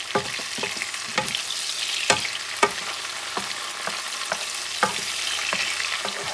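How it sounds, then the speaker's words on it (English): Garlic sautés in a pan for a pork stew sofrito: a steady close sizzle punctuated by repeated sharp clicks and taps of a utensil stirring against the pan, no voices. "So you saute this baby. Your garlic."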